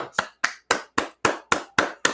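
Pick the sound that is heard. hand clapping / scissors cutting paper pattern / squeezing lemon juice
hand clapping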